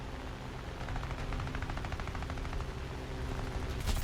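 Guns on a P-39N Airacobra fire in a flight combat video game, rapid bursts rattling over steady engine drone, with a sharper burst right at the end.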